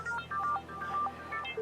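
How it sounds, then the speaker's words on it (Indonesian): A telephone ringtone in an Indonesian TV drama, a short electronic melody of quick bright tones repeating, clear and close with no voices. "Ada telepon?"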